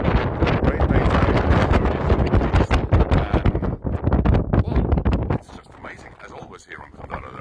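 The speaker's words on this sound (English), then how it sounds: "It's a little bit windy today, as you can maybe hear" Strong wind buffeting the microphone outdoors, a loud, rough, continuous roar that drops off sharply near the end.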